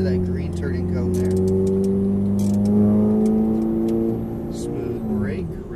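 A Ferrari F430 engine under full throttle on a track, a loud, close tone that climbs steadily and holds high before easing off near the end, with a voice talking over it.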